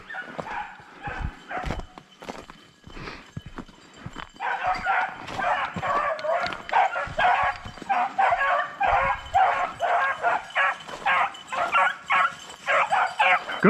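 Hunting dogs bark and yip repeatedly during a snowshoe hare hunt, first scattered and then a dense, rhythmic run of loud, close barks with excited whimpering mixed in.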